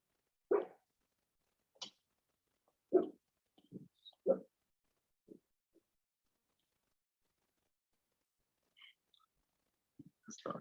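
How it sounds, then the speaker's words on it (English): A dog gives several short, sharp barks and yips at irregular intervals, with quiet gaps between them, heard indoors at moderate distance. "This dog is hilarious."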